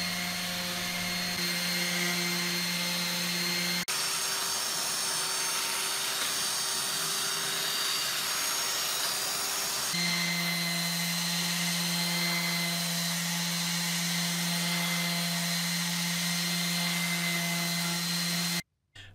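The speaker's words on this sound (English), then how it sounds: "When I hit the random orbit stage, I start at 60 grit and I work my way all the way down to 220." A random orbit sander hums and whirs steadily on exotic wood for a homemade bench vise, its tone shifting slightly when pressure changes midway, then cutting off abruptly at the end.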